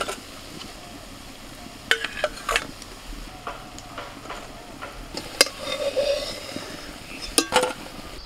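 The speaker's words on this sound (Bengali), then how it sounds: "বড়া তো ভাজা হয়ে গেল" Lentil fritters (bora) frying in a pan, with a steady low sizzle and scattered sharp clinks and scrapes as a utensil stirs them against the pan.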